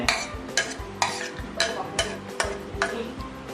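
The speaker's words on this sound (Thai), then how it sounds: "เทรวมไปเลย" Thai vegetable salad ingredients are tipped together and mixed in a bowl, giving a run of rhythmic scraping and clattering stirs about twice a second, close and moderately loud with no speech.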